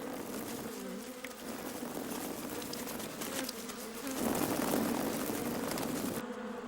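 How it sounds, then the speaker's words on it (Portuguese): Bees flying around a hive, a dense, steady buzzing drone of many insects close by that swells a little louder toward the end before dropping off abruptly. "As abelhas voaram de volta para a colmeia"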